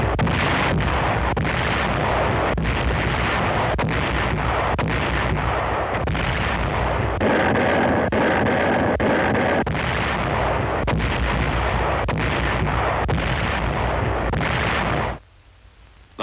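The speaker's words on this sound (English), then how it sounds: "artillery." Artillery fire in a World War II battle between Japanese and U.S. forces: rapid, continuous booming blasts and gunfire in a dense, loud barrage that stops abruptly near the end.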